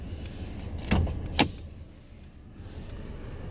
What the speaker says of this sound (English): I'm also going to pop the hood.